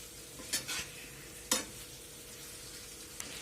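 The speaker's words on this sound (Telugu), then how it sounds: "ఇప్పుడు ఈ సాస్ మొత్తం మంచూరియా బాల్స్కి కలిసేలాగా మొత్తాన్ని బాగా కలుపుకోవాలి" Cabbage-based vegetable Manchurian balls are stirred into sauce in a pan, with two or three distinct scraping strokes of a spatula over a soft, steady sizzle.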